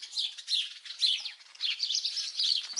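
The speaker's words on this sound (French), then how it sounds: "Écoutez-moi, ces oiseaux, c'est super agréable." Many sparrows chirp and twitter together in a busy, continuous chatter of high, quick notes, moderately close, in a garden, with no voices.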